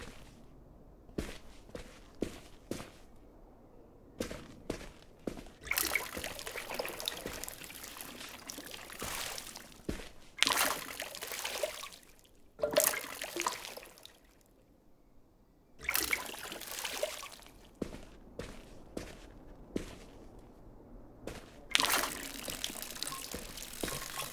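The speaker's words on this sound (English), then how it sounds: "now I'll water you." Plants being watered in the video game The Berlin Apartment: bursts of pouring, trickling water alternate with short clicks and soft footstep-like taps, with quiet gaps between the pours.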